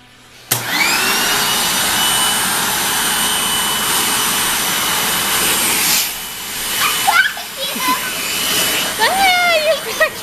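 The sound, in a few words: vacuum cleaner running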